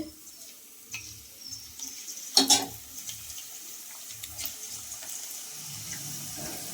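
Boondi batter drops into hot oil for boondi laddu, giving a steady sizzle and bubbling with soft splashes and a brief louder clatter, and no talking.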